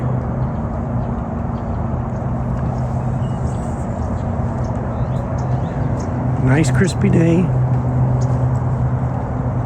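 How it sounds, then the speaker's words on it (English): A constant low rumble of traffic from a nearby freeway fills the background while a person speaks a few words partway through. "there is a whole lot of street traffic noise"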